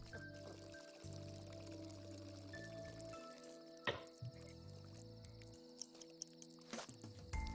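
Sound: water draining away in video game Worms Revolution

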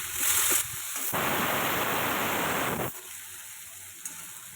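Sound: eggplant and potato pieces frying in oil

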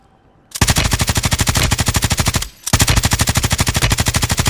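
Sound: Striker shotgun firing in a video game

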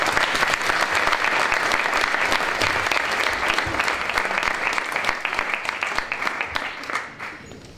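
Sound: audience applause

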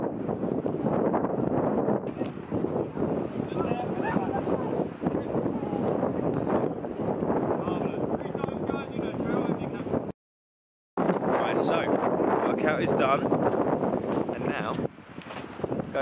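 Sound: wind on a beach

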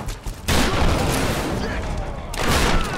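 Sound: shotgun fire in video game Tomb Raider

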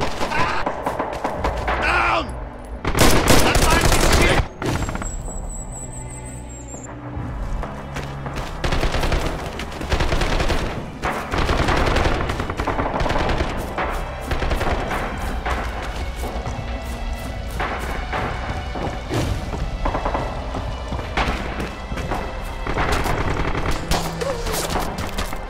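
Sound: gunfire from the video game Red Orchestra 2

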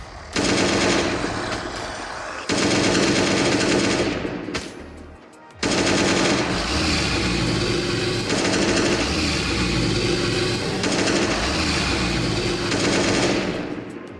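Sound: gunfire from a gun in the video game Last Day on Earth

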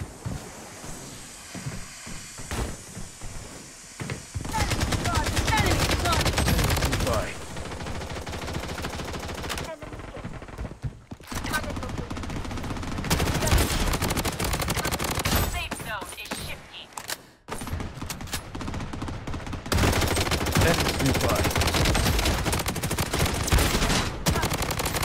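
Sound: gunfire in the video game Blood Strike

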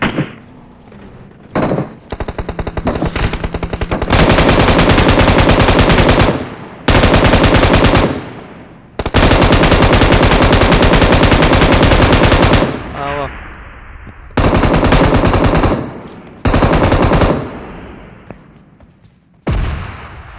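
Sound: gunfire in PUBG Mobile video game heavy weapons mode

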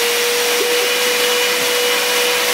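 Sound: vacuum cleaner running

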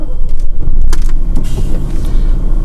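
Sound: military vehicle engine starting

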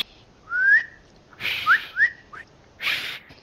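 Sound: whistling in Spider-Man 2 video game

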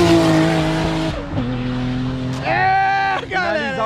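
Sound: BMW M5 V8 biturbo car racing in a drag race

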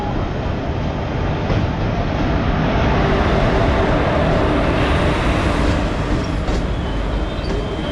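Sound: express train arriving at platform

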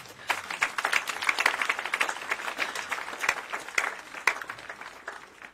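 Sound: audience applause for a cardinal

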